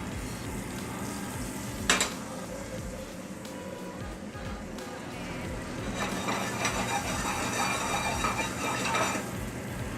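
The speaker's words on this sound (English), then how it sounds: "Make sure your butter is completely melted in the pan before you add it" Butter melts and sizzles in a hot pan while omelets are being cooked, making a continuous close crackle with a sharp utensil clank early on. The frying grows louder and busier in the second half.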